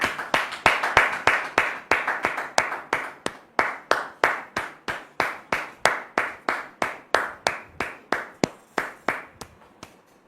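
Slow, evenly spaced single claps ring out one after another, around three per second and fading slightly, as a church audience welcomes Pastor Élie with applause.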